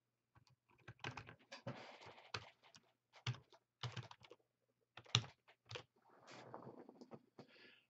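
Someone types an email address on a computer keyboard, with close, crisp key clicks in irregular bursts and short pauses. No voices are heard.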